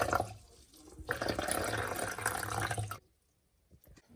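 Water poured into a bowl of weighed flour while making pizza dough, a steady close splashing fill lasting about three seconds, then stopping into near silence with a few faint clinks.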